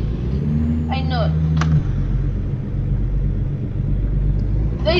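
A Peterbilt truck engine in American Truck Simulator drones at a steady low rumble throughout, loud and close, with a brief rising whine and faint higher clicks early on, and a pitch drop partway through.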